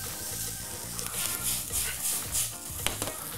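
Onions and ginger sizzle and crackle in a hot pan, with continuous frying hiss and a few stirring scrapes, close and fairly loud.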